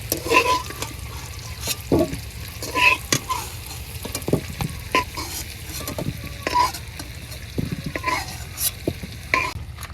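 Potatoes frying in a kadai in a village kitchen, sizzling steadily while a spatula stirs and scrapes the pan in repeated sharp clinks and scrapes, close and fairly loud.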